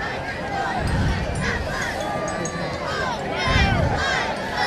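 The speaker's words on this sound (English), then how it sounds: "There's been quite a crowd here." Crowd in the stands at a high school football game, a continuous murmur of many voices with a couple of louder swells of cheering, fairly close and steady throughout.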